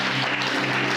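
A church congregation claps and acclaims together in a dense, sustained burst of applause that fills the whole second at steady loudness.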